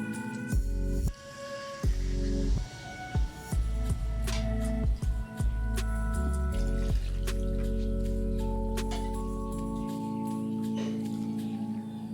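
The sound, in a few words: water being poured into cooked vegetables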